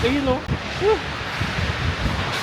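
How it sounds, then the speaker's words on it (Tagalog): Strong gusty wind roars steadily outdoors in Hong Kong ahead of a typhoon, a broad loud rush, with a voice speaking briefly over it at the start. "lakas na ng hangin"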